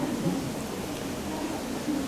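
Steady rain falls during a Monday evening break-fast religious gathering, a continuous moderate wash of hiss with no clear voices.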